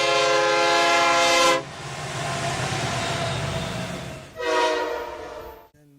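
A train horn blares loud and long, then stops as the train rumbles past with a rushing roar, and a second horn blast follows before the sound cuts off.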